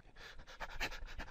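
A narrator imitates a small animal's panting for breath, a quick run of breathy, rhythmic huffs, close and fairly soft, with no words spoken over it.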